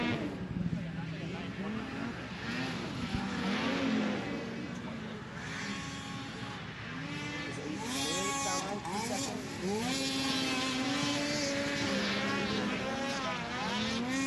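Race cars lapping the Steeplechase track near the end of a race roar past with rising and falling engine whines, several overlapping and fairly loud throughout, while an announcer talks over them.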